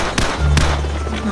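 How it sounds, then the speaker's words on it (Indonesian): A grenade blast in the video game Call of Duty 4: Modern Warfare, two sharp close cracks followed by a loud sustained rumble of battle noise. "Grenade."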